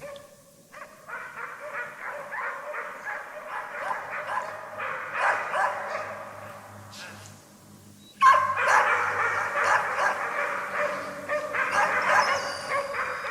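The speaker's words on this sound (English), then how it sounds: "The dogs far ahead of the hunter signal their find." Hunting dogs bark in a taiga forest, signalling a find far ahead of the hunter; repeated excited barks and yips sound at a distance, growing louder and denser partway through.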